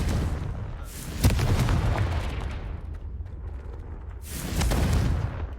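Confringo blasting spell explosions in the Hogwarts Legacy video game, two loud booming bursts with rumbling decay between them, close and forceful.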